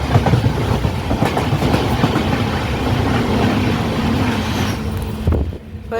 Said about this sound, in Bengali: চলে আসছে সরাইঘাট এক্সপ্রেস